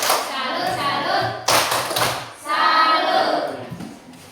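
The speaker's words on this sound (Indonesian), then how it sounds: "Mari kita berikan tepuk salut untuk kelompok 1." Group in a teachers' training session performing a rhythmic patterned clap in unison, sharp claps in short sets with brief gaps, close and loud, mixed with voices chanting along.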